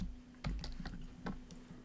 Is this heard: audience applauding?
no